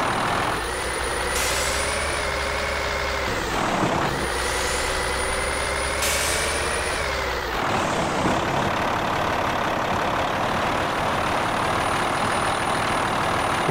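A 1020-horsepower Kenworth truck engine in Euro Truck Simulator 2 drones steadily at light throttle, a deep, continuous rumble with a layered harmonic whine that shifts slightly before settling into a rougher, lower hum.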